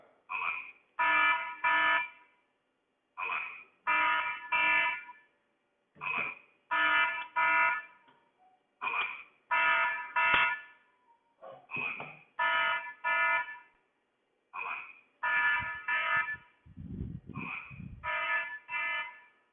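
A Hikvision AX Pro alarm siren set off by its tamper switch blares in loud, repeated bursts of harsh electronic tone, separated by short silences, with a brief low thump near the end.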